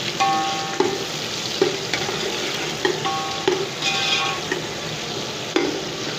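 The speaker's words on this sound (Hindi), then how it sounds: "प्याज हमारे गोल्डन होने ही वाले हैं।" Onions frying in oil until golden for chicken biryani, a steady close sizzle broken by a few sharp scraping stirs at regular intervals, with no talking.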